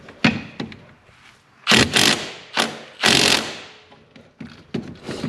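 Pneumatic impact wrench hammering on a shock absorber bolt of a 1993 Geo Metro, in several loud rattling bursts of about a second each, separated by short pauses and quieter clanks, with no talking.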